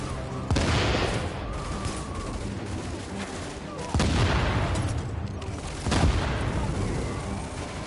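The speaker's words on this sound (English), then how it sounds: "that was a good grenade I just threw me" Grenade blast in The Division, set in Grand Central Station, amid a dense loud firefight; three heavy booming bursts stand out over continuous gunfire, with no talk.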